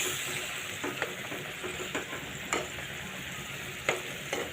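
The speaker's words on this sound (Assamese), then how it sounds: "আৰু ধনিয়াখিনি দি ভালকৈ লৰাই দিম।" Chopped coriander is stirred into fish frying in a pan, with a spoon scraping in repeated, irregular strokes over a constant close sizzle and hiss of hot oil.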